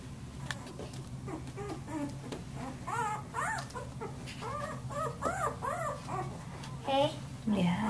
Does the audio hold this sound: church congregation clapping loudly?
no